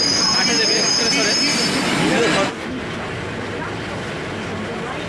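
Kolkata Metro train running from Esplanade toward Dakshineswar, a loud continuous roar of wheels and carriage rumble with a high squealing tone that fades midway as the noise settles to a steady rushing drone.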